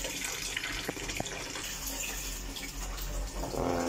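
Water flows steadily into the cistern of a sit-down toilet after its flush pump has been replaced, a continuous near hiss and trickle with a few small drips and no talking.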